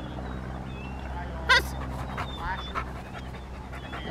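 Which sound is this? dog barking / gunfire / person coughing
dog barking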